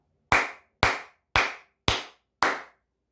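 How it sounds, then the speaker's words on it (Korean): Five crisp hand claps in a slow, even rhythm, each a sharp close smack with a short decay, spaced about half a second apart with silence between and no talking. "박수 한번 치고 가도록 하겠습니다"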